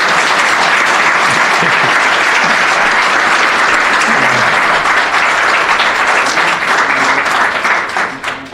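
Sustained, loud applause from a tech conference audience honoring someone who revived a Perl Mongers group, dense steady clapping filling the room and tapering off at the very end.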